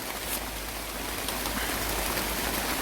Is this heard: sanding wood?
no